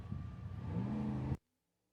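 A drag racing car from a small-tire street class roars with a rising engine note, building steadily for about a second before cutting off abruptly into silence.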